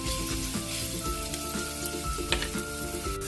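Garlic sizzles and crackles in a little hot cooking oil in a pan, a close, steady frying hiss with small pops.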